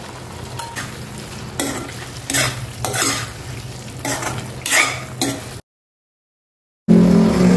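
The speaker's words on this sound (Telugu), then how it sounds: "పెట్టుకున్న ఈ క్యాప్సికమ్ ముక్కలు ఇందులో వేసేయండి" Capsicum pieces stirred and frying in a pan of masala curry with yogurt, a steady sizzle broken by repeated scraping stirs of a utensil, then a brief pause before a louder burst of sizzling.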